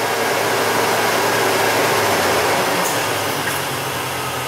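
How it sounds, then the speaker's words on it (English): A Chevrolet/GMC engine with a rough-running, lean misfire condition settles back toward idle, giving a steady, loud mechanical roar and broadband whir that eases slightly near the end, with no talking. "Let me kick it back to an idle."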